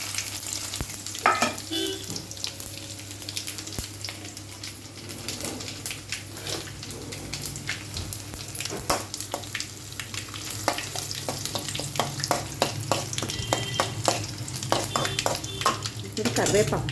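Mustard seeds, black gram dal, cumin, two dried red chillies and a little garlic fry in about four tablespoons of hot oil for a mango chutney tempering, a close steady sizzle broken by crackles and spoon scrapes, with a voice talking intermittently.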